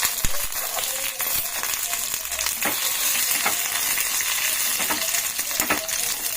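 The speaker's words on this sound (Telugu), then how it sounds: "ఆయిల్ వేసుకొని ఫ్రై చేసుకోవాలి. ఇప్పుడు కొబ్బరి ముక్కలు వేస్తాను." Coconut pieces frying in oil for a chutney, a steady bright sizzle with intermittent scraping and clinking as they are stirred in the pan.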